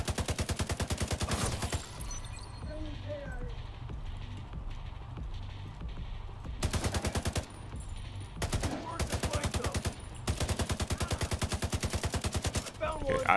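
Automatic gunfire from a shooter game, The Division 2, in several rapid bursts of close, loud shots separated by brief pauses, with a softer combat backdrop between volleys.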